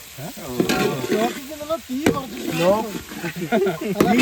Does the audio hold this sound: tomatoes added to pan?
yes